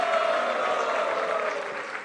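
A crowd claps in steady, dense applause for a couple of seconds after a folk theatre skit, fading slightly toward the end.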